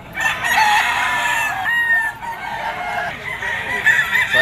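A Kelso bloodline gamecock stag crowing at an outdoor pet market, several high, drawn-out calls close by over a steady bustle of crowd noise.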